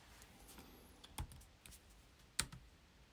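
Two crisp computer mouse clicks, about a second apart, sound close and alone against a quiet room hiss while editing in Final Cut Pro X.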